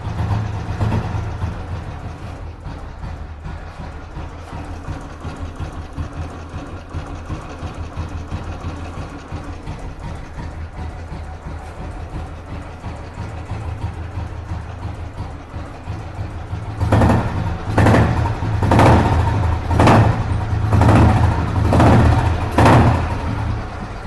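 A motorcycle engine idles steadily for a while, then revs up into a louder, rhythmic pulsing near the end, close by with no voices.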